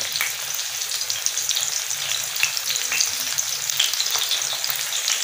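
Fish fries on a tawa griddle over medium heat, a steady close sizzle with dense crackling and popping that continues throughout, with no voices.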